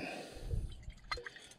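Bushmills Irish whiskey trickling from a bottle over the side of a tiny boat into the sea, a short soft splashing and dripping close by, faint against quiet water.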